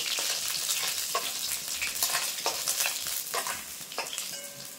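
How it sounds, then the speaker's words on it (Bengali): Snakehead fish fry in hot oil until reddish-brown, giving a loud, continuous close sizzle with crackling pops and stirring scrapes throughout, and no voices. "এই মাছগুলো কিন্তু আমি লাল লাল করে ভেজে নিয়েছি, এবার তুলে নেব।"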